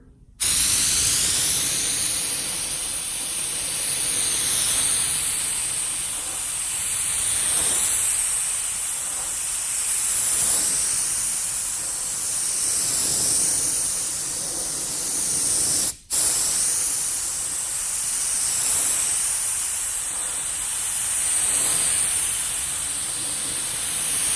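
An LPH 80 spray gun with a 1.2 mm tip, set at half, mists clear coat over a painted image transfer in a steady, loud, continuous hiss that runs alone with one very brief break midway.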